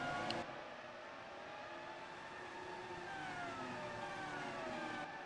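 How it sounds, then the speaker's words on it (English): Race cars stream through the final corner of a track, their engines heard faintly as rising and falling whining tones sweeping past over a low, steady rumble. "So the cars stream down through the final corner"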